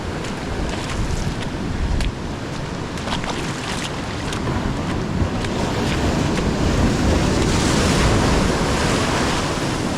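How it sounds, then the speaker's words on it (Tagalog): Strong sea waves surge and wash around a boat on open water during a fishing trip for giant trevally. A loud, continuous rush of surf is mixed with buffeting wind noise on the microphone, and no one speaks. "Grabe, lakas na alon."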